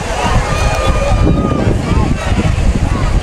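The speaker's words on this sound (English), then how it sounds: "Now we got a wind coming in" Wind buffeting the microphone at a harbor during a seine boat race event, a loud continuous rumbling roar close up, with a voice speaking over it.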